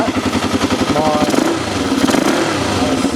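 A 1984 Honda XR200RE motorcycle engine idles steadily after a kick start with the choke on, a loud, close, rapid thumping putter with slight revving and mechanical clatter.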